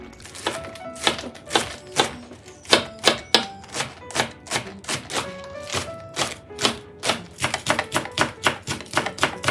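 A knife chops thick green onion stalks on a cutting board, a run of sharp, evenly spaced thuds, close and crisp, sometimes coming in quick clusters, with no talking.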